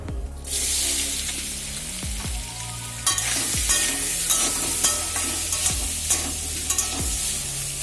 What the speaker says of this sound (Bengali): সেদ্ধ করা সয়াবিনগুলো ভেজে নেব এখন